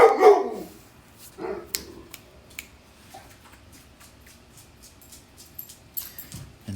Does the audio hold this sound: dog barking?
yes